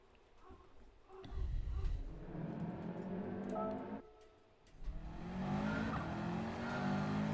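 Subaru WRX driving in Gran Turismo 7, game engine note rising through gears with tire noise, a brief drop around the middle before revving back up, moderately loud and steady.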